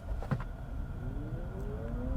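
A front-wheel-drive 2023 Chevrolet Bolt EUV with a single 200-horsepower electric motor accelerating hard from a standstill, a faint rising electric whine climbing steadily under low road and cabin noise.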